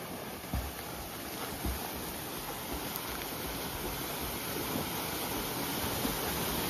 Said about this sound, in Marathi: अमोलकडे यामाचा इंजिन हा आणि ह्याच्याकडे दुसरा कसला तरी इंजिन हा.